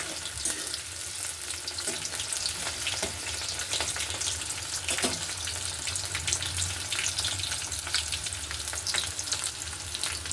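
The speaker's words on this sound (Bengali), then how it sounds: "পেঁয়াজটা একটু লাল লাল হয়ে ভেজে" Chopped onions sizzle steadily in hot oil in a home kitchen, a continuous close frying hiss with occasional stirring clinks and faint water sounds, no voices.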